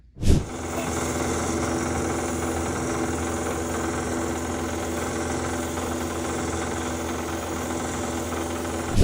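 A power sander buffs ocean picture stone with 3000 grit sandpaper in a steady, close, continuous whirring drone with a light grinding texture. It holds an even level from start to finish and nobody speaks.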